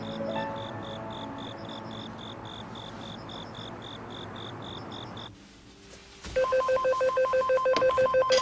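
An old-style telephone rings indoors in a Korean drama scene, a steady trilling bell repeating in bursts, then a brief hush before a louder, closer electronic ring pattern resumes.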